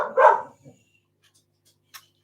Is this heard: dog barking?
yes